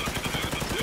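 AK400 assault rifle in Fallout 4 firing a rapid automatic burst, evenly spaced shots rattling close and loud over less than a second.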